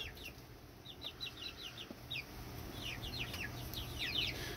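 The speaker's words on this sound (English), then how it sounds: "we're in the chick room with the chicks" Chicks cluck and chirp repeatedly in a chick room, several birds close by, short high calls scattered throughout over a low steady background hum.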